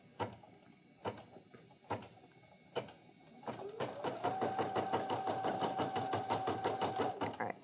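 Brother embroidery machine stitching out a design: a few slow, separate clacks, then a fast, steady rhythmic needle chatter with a constant motor whine, close and fairly quiet.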